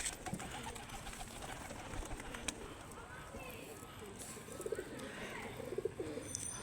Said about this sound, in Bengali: দেখো, কবুতরের পুরো খাবার দেওয়ার সাথে সাথেই হাতে চলে আসে।